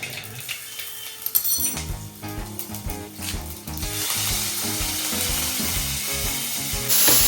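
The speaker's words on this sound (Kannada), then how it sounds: "ಜೀರಿಗೆ ಹಾಕಲ್ಲೇ. ಹಾಂ, ಹಾಕ್ದೆ. ಸಿಡಿದೆ." Cumin seeds spluttering in hot oil while cooking a special Maggi noodle dish: a steady crackling sizzle that builds and grows denser and louder toward the end, with no talking.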